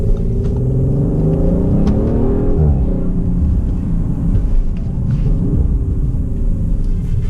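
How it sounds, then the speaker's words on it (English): A 2021 Audi RS5 Sportback's exhaust in RS2 sport mode gives a loud, continuous deep rumble with rising and falling revs, heard from inside the car with no talking. "right now we're going to let the exhaust kind of go, let you hear what that sounds like"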